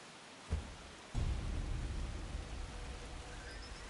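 Rain falls in the video game Sifu as a steady, soft hiss that swells after a couple of low thuds near the start and continues evenly.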